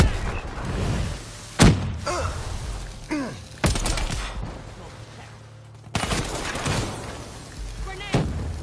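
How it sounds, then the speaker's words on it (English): A frag grenade explodes in a video game amid scattered gunfire, with several sharp blasts and thuds spread across the scene and voices speaking between them. "Incoming frag."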